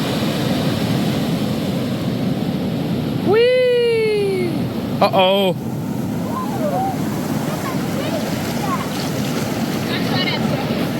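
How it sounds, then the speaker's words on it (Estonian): Large sea waves roll and crash in a steady, loud wash with heavy wind buffeting the microphone, while people shout and call out briefly over the surf. "Ei saa aru, kui suured lained on, aga praegu on päris suured."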